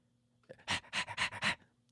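A boy imitates a dog with his voice, letting out four loud, rhythmic panting breaths with whimpering tones, fairly close and with no speech.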